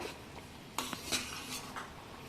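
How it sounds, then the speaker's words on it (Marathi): Mango slices drop into a cooking pot of sugar syrup with a couple of faint metallic clinks and scrapes of a utensil against the pot, close and quiet, with no talking. "आंब्याच्या कापट्या टाकते त्याच्यामध्ये"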